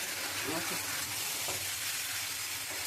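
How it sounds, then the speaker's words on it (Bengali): Drumstick stems cook in a mustard and poppy seed paste, stirred in a pan with a loud, dense sizzle and a few soft scraping strokes. "খুব ভালো করে নাড়বো। আমি খুব সুন্দর করে কষিয়ে নিয়েছি"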